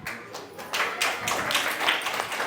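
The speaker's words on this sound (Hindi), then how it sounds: "ताली बजा रहे" An audience claps, a brisk, dense patter of many hands that swells after a short softer start and stays fairly loud to the end.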